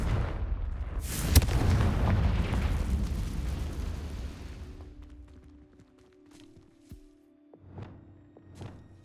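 A Confringo explosive spell cast in Hogwarts Legacy bursts loud and close with a sharp crack, then a long rumbling roar that fades over several seconds into quieter thumps and faint ambient clinks.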